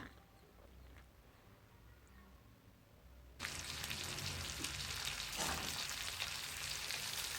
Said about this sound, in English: we are now putting our onions and garlic on the other pan, and a scoop of a scoop of butter